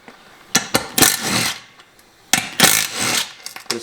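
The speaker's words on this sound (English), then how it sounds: "Also, rattle gun's probably not the ideal thing." A pneumatic rattle gun works a race car wheel fastener in two loud bursts of harsh, rapid hammering, each lasting about a second, separated by short clicks and brief pauses.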